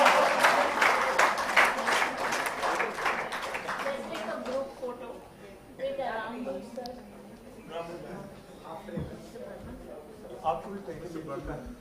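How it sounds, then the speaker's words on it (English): An audience at a conference closing ceremony on sustainability education bursts into dense applause for the first few seconds, then the clapping fades as a speaker talks over the room. "Let's have a round of applause."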